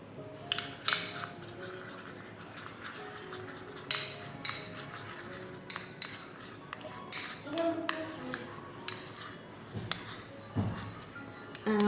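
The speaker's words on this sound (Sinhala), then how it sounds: "ඊට පස්සේ මේ දෙක හොඳට කලවම් කරගන්න" A spoon clinks and scrapes against a cup while honey and turmeric are stirred together, with small irregular taps at close range and a quiet voice now and then.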